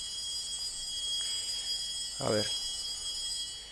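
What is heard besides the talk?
bell rung to signal speaking time is up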